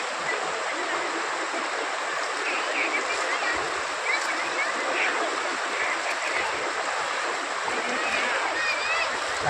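The Tamirabarani river rushes at its source near Papanasam by a temple, a steady broadband roar of flowing water filling the whole stretch at constant loudness.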